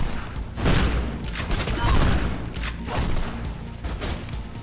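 Gunfire in the Mirror's Edge video game, a dense, rapid burst of shots with crashing impacts that rolls on steadily for several seconds, loud and close, with some speech mixed in.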